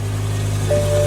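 A BMW E60 M5 engine running at a steady idle, a smooth continuous hum with a faint rise in pitch partway through as it settles, close by with no talking.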